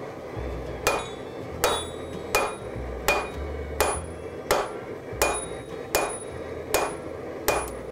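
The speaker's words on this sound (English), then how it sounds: "For this, I used a ball punch." Ball punch struck with a hammer on forged steel to shape a bottle opener tab: eleven evenly spaced ringing metallic blows, roughly one every 0.7 seconds, close and clear with no talking.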